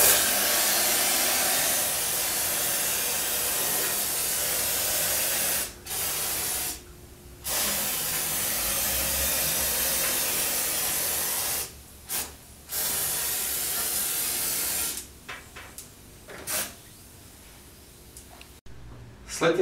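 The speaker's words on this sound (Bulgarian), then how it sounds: "третираме питата с антибактериален спрей" Antibacterial spray is applied to an air conditioner's evaporator coil during cleaning, with repeated close hissing bursts separated by short pauses.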